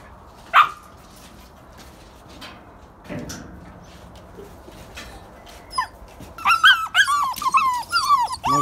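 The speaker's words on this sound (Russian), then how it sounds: "Все, мы вышли, скулить начали." Young wolfdog puppies of the Wolfland breed whine in an outdoor enclosure at a wolf park: a sharp yelp early on, then a run of high, rising and falling squeaky whimpers repeating close by near the end.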